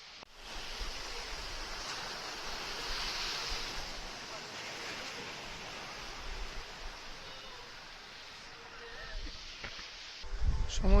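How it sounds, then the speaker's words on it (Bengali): Ocean waves roll and break along the shore at Mirissa, Sri Lanka, a broad steady wash of surf mixed with wind noise on the microphone, swelling louder near the end as a strong wave crashes close by. "এখন একটা এত জোরে ঢেউ এলো"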